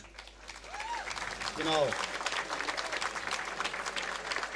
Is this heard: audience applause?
yes